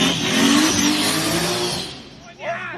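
A Nissan S14 drift car revs loudly through a played-back video, the engine surging and holding high before fading, with a short burst of other noise near the end.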